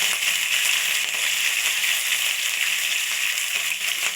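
Green chillies, curry leaves and mustard seeds frying in hot oil, a loud, steady sizzle with scattered small pops, close and continuous with no talking.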